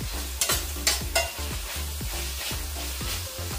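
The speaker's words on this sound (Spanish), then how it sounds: "Vamos a darle una meneada acá a nuestro tocino" Bacon frying in a pan and being stirred, with a steady close sizzle under quick, regular scraping strokes of a utensil against the pan, loud and without talk.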